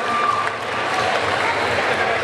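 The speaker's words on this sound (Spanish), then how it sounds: "Y un aplauso para mis amigos de Plaza de la Tecnología" Steady audience applause fills a crowded hall at a fan convention, with dense, even clapping that holds at the same level throughout and no break.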